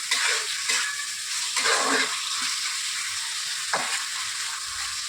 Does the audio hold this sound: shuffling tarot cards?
no